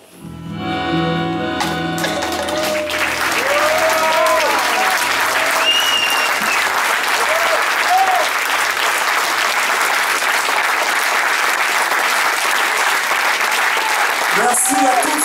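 Thunderous, sustained applause from a concert audience for the performers after a cover song, with a few cheers and whistles rising over the dense clapping, which fades in as the last musical notes end.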